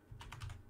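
A few quick keystrokes tap on a computer keyboard as a command is entered, soft and close in a quiet room, with no voices.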